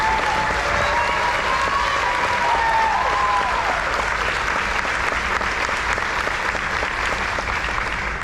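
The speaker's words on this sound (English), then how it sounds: "If we could also please give him a humongous round of applause." Dense, continuous applause from a high school Navy JROTC change of command ceremony audience, loud and even throughout, with some whistles near the start.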